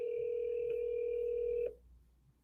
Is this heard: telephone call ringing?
yes